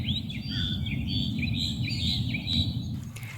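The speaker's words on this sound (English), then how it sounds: "Listen to the birds." Birds chirp and trill outdoors in a few short phrases over a steady low rumble of background noise, faint and moderately distant.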